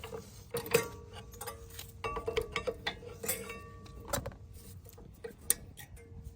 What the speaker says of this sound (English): we're gonna go ahead and pry out the old brake pads